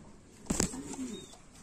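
Lahori pigeons in a farm loft give a short low coo around the middle, with faint bird chirps and rustling behind it.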